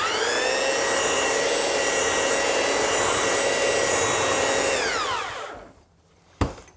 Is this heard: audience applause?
no